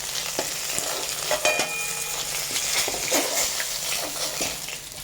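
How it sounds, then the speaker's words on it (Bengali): Pieces of bhola fish frying in oil, a steady close sizzle and crackle with scattered clicks and scrapes of a utensil moving them around the pan, moderately loud with no talking. "আর এদিকে মাছগুলি ভাজা হচ্ছে ভালো করে ভাজা হয়ে যাক"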